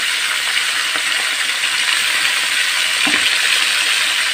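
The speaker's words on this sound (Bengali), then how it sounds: "মাছের মাথাগুলো খুবই একবারে মজা মতো করে ভাজতে হবে" Rohu fish heads frying in hot oil, a loud continuous sizzle and hiss with occasional faint stirring taps.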